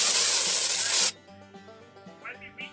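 Weed killer sprays onto thistles in a strong, close hiss for about a second, then cuts off abruptly, leaving quiet background sound.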